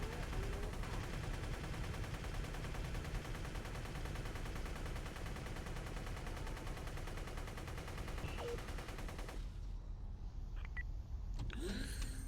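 Bomber gunner firing GAT guns in a video game, a rapid continuous stream of automatic fire that runs steadily and fairly faint, then cuts off near the end.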